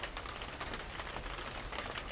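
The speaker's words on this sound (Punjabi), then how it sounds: "ਤੁਹਾਨੂੰ ਆਵਾਜ਼ ਆ ਰਹੀ ਹੋਣੀ ਹੈ ਮੀਂਹ ਪੈਣ ਦੀ" Rain falling steadily on a roof at night, a continuous soft hiss of patter with scattered drops, moderately loud and even throughout, with no voices.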